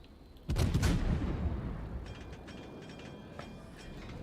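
A World of Warships battleship, the Moskva, fires armor-piercing shells in one booming salvo with a rumbling tail that fades slowly, followed by fainter crackling and distant impacts over a steady low background.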